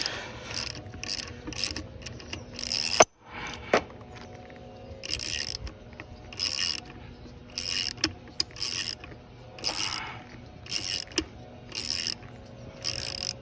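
A ratcheting wrench tightens bolts while rear overload springs are fitted to a Subaru Crosstrek, giving repeated loud bursts of rapid clicking separated by short pauses, close and alone, with one sharp knock near the start.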